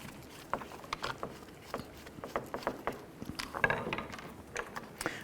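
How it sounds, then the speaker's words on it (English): A small Phillips head screw is backed out of the chrome fog light bezel trim on a 2012-2017 Toyota Camry, giving scattered light clicks and ticks close by, with soft handling noises between them. "Let's remove our small Phillips head screw from the end of the chrome trim."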